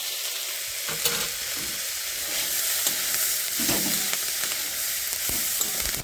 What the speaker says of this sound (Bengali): যখন এই লঙ্কাটা অনেকটাই ভাজা ভাজা হয়ে আসবে